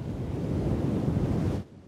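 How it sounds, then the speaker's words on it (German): A big ocean wave surges and crashes in a cartoon, a loud, steady roar of surf filling nearly two seconds before cutting off abruptly into silence. "Oh weia, das ist eine Riesenwelle."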